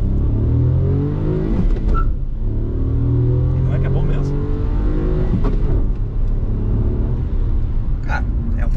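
A Hyundai HB20 Comfort 2024 with a 1.0 naturally aspirated engine accelerates hard from inside the cabin, with a steady loud engine drone rising in pitch, while people talk over it.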